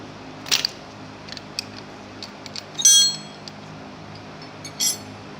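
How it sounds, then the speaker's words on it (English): Wrenches clink against metal fittings while a solvent line is loosened from a KoldSpray spray gun, several short sharp metallic taps spaced out over a quiet background, the loudest near the middle. "Using 2 9/16 wrenches, remove the solvent line."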